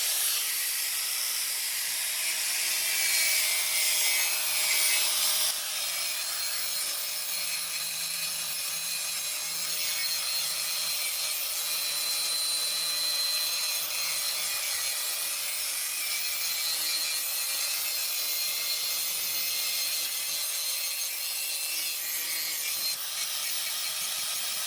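Steady abrasive grinding and rubbing on the metal edge of a rusty old brush hog mower, cleaning it up and beveling it; loud and continuous for about five seconds, then a slightly quieter, even scraping that carries on to the end.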